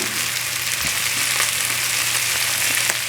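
Food frying in a pan for spring rolls gives a dense, continuous close sizzle at steady loudness, with a faint low hum underneath and no voices.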